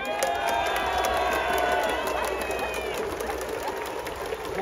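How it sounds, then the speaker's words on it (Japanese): A large baseball crowd at Koshien Stadium roars and cheers continuously during a hero interview, loud and sustained, with a high whistle-like tone cutting through the din. "この大歓声です。"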